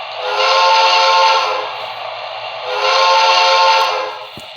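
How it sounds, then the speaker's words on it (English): Steam whistle of a BLI PRR Q2 Duplex #6187 model locomotive: two long, loud, hissing chime blasts, each sustained about two seconds with a brief dip between, sounding grand and full with a faint low hum underneath. "I really like that whistle"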